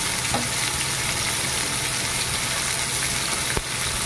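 Pointed gourd and jackfruit seeds fry in hot oil with a loud, steady sizzle, broken once near the end by a brief clack from the pan.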